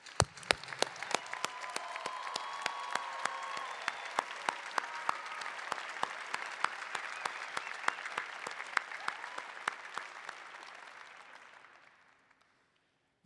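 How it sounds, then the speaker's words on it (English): Audience applause at a 2024 Heinz College of Information Systems and Public Policy hooding and diploma ceremony: dense, sustained clapping from a large crowd, steady for about eleven seconds before tapering off. "Please join me in a well-deserved round of applause for these outstanding individuals."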